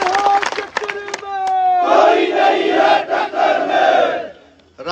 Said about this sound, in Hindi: आपकी तालियों की गड़गड़ाहट से समझ जाता हूं कि ताकत कितनी है